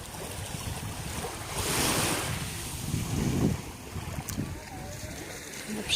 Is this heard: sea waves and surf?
yes